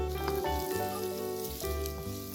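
Sliced white parts of spring onions frying in a pan for chilli garlic prawns, giving a steady, close hiss of sizzling oil with light stirring clatter throughout, no voices.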